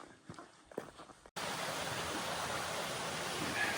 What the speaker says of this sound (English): Made it to this nice bridge over this brook here.